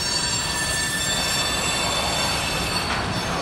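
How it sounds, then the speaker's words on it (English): Freight train with distributed power units rolling loudly through track switches, a steady dense rumble with screeching, squealing wheel tones running throughout, close and continuous with no talk. "Noisy, going through the switches."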